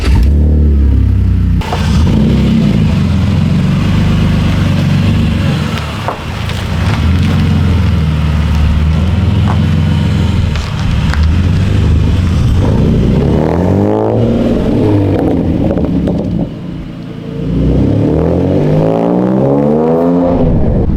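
Modified wide-body BMW E46 330Ci on its first drive with new body kit, a loud close engine droning steadily then revving up through rising sweeps in the second half, with no talking.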